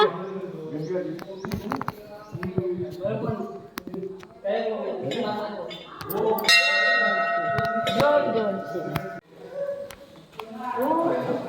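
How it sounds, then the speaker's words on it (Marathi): A bell rings out with a bright, sustained metallic tone midway, among people talking and scattered knocks and clatter. "ये घंटी बजाओ बाबा"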